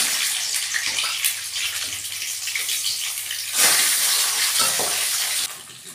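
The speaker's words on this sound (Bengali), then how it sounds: "এবারে কড়াইতে তেল দিয়ে দিচ্ছেন, মাছের মাথাগুলো ভেজে নেবেন।" Fish heads frying in oil in a wok, a loud continuous hiss and sizzle that surges louder partway through, then drops off near the end, close and without talk.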